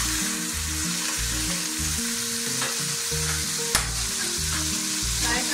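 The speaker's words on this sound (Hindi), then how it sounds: "इसमें मैं चिकन ऐड करने जा रही हूँ।" Chicken stir-frying in a little oil in a pot over a slow flame for spicy chicken pasta: a dense, continuous sizzle close up, with the rhythmic scrape of stirring and one sharp clink of the spoon, and no voices.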